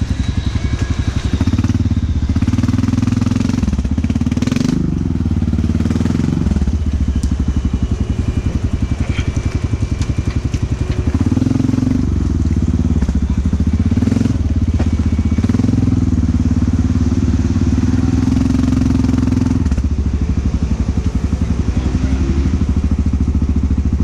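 A stock ATV engine drones loud and steady nearby with uneven revving surges and mechanical clatter as the tires dig into the ground, running continuously with no break.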